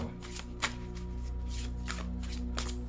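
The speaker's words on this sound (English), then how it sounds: "we're going to shuffle a little more" A deck of cards being shuffled close up, with quick riffling bursts and soft flicks over a low steady hum.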